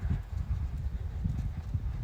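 Hooves of a horse clip-clop in a steady, close rhythm as it is ridden while working cows, loud and continuous with no talking over it.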